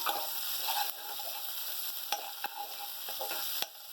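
Ginger, garlic and chili hiss and sizzle with onions in a hot pan, a continuous frying crackle broken by a few sharp clicks of stirring.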